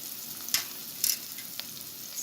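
Asafoetida sizzling in hot oil in a pan while making Kutchi dabeli, a soft steady frying hiss broken by a few sharp scraping stirs of a spoon.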